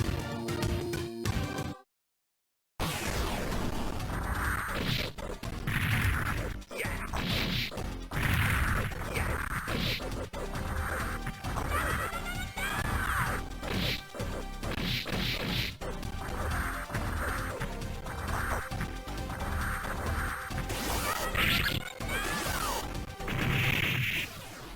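Glitchy fighting-game effects from Battle Monsters running under emulation give repeated smashing hits, whooshes and thwacks over a busy background, with one brief dropout near the start and no talk.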